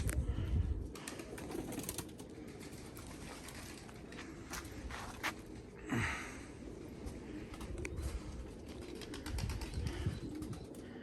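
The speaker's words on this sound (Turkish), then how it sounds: "Altında kuşlar da var." Pigeons flap past in brief bursts of wingbeats over steady outdoor ambience, with soft cooing and scattered rustling nearby.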